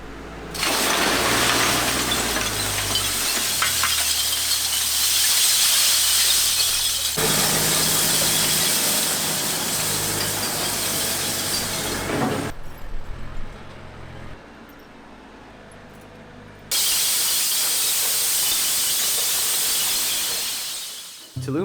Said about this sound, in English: The real show was when the 3 months worth of glass collection was picked up.